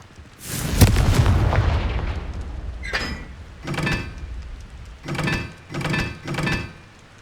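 Repeated blast-curse explosions from the Hogwarts Legacy video game: a big booming burst, then four or five shorter crackling bangs at a steady rhythm, loud and close with no talk.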